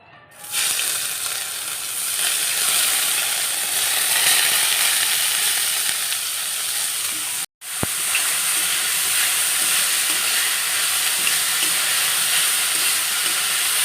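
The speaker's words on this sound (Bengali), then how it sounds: "থোর ভাজা হবে শুকনো লঙ্কা দিলাম" Thinly sliced banana stem with dried red chili sizzles in hot oil in a home kitchen, a loud, steady, broad frying hiss that runs almost unbroken, with one brief dropout midway.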